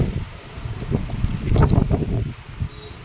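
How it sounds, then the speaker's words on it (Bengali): Strong afternoon storm wind gusts blow across the microphone, with a steady low roar that swells in the middle and rustling leaves mixed in, and no talking. "প্রচুর হাওয়া দিচ্ছে বন্ধুরা"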